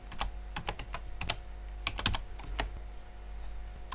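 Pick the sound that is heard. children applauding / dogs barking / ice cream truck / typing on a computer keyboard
typing on a computer keyboard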